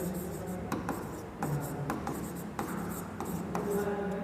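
Chalk or marker scratching across a board while a trigonometry height-and-distance problem is worked out, with short rubbing strokes and brief taps repeating steadily at close range.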